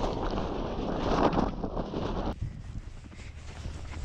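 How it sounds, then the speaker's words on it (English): Strong wind roars across a snowy cattle pasture, buffeting the microphone in a loud, steady rush that drops off sharply partway through. "now the wind has picked up and it's horrible"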